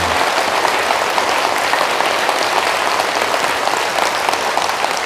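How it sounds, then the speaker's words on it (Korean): A large congregation claps together at a Catholic Holy Spirit gathering in the Andong diocese. The applause is loud, dense and sustained like heavy rain, holding steady for about five seconds without voices. "박수로 한번 이렇게"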